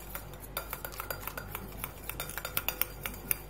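Cosmetic cream mixture being stirred in a bowl, a run of quick light clinks and scrapes of a utensil against the bowl, close and quiet, growing sharper and more spaced toward the end.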